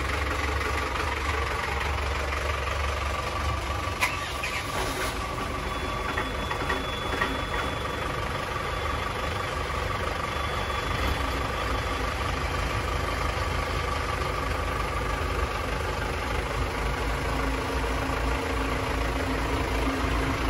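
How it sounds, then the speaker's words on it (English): The twin Volvo Penta AD31 130 hp sterndrive engines of a Sealine 290 Ambassador boat crank over from cold and catch, port then starboard, then settle into a steady, low, throbbing idle that runs on without change. "We're going to start the port engine first, then starboard."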